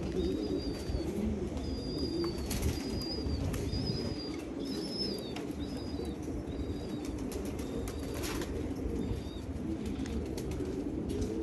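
Pigeons coo in a loft among kept birds, soft repeated calls over a constant dense background rumble, with scattered faint chirps and no speech.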